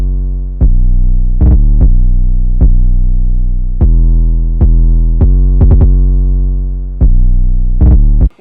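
The second part of a self-made hip-hop beat plays loud and close: a deep, sustained booming bass runs under sharp percussive hits that land in an uneven, syncopated pattern with a few quick double strikes.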